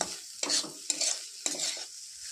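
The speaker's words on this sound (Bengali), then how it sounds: "এক চামচ পরিমাণ কাস্তুরি মেথি এটাকেও নাড়িয়ে নেব আমি" Spatula strokes stir egg frying with a spoonful of kasuri methi in a pan for butter tadka, three quick scraping passes over a soft sizzle, close and fairly quiet.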